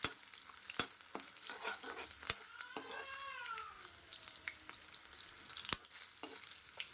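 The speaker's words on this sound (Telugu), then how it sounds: "చూడండి, వెల్లుల్లి బాగా వేగాలి." Crushed garlic and cashews fry in a hot pan for rice, giving a steady low sizzle with a few sharp clicks of a spoon and a brief squeaky scrape partway through.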